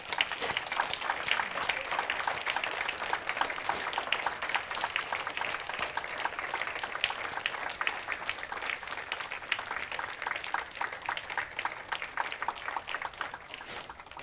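A church congregation claps steadily for several seconds, the applause dense and even from start to finish, with faint cheering and voices mixed into the crowd.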